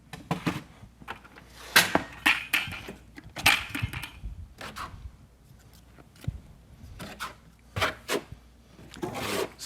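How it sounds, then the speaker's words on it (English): A notch trowel scrapes and rasps thin-set mortar across a foam shower bench, a series of irregular close scraping strokes with short pauses between them. "Spreading his thin set, making sure he gets good, he's burning it into the substrate, getting good contact."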